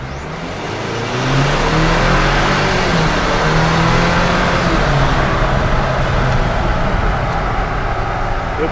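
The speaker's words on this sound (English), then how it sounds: "Let's see if we can hear the turbo, because this is a turbo 4-cylinder" A 2023 GMC Canyon Denali's turbo four-cylinder engine is floored inside a tunnel with the windows down. After a brief quieter start, a loud roar swells and holds with a rising engine tone and a reverberant rush of wind.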